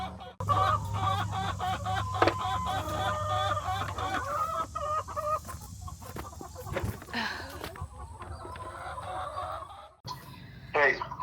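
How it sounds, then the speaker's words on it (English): Chickens clucking and calling around a farm coop and nest boxes, a busy continuous chatter of several birds close by with some louder squawks, and a person briefly speaking among them. "Chickens."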